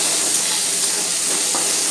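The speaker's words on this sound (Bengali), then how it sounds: "সবজিগুলো ভেজে নিই।" Cut vegetables sizzling in a small amount of hot oil in a pan while chicken stew is cooked at home: a steady, close hiss that holds evenly throughout with faint crackles.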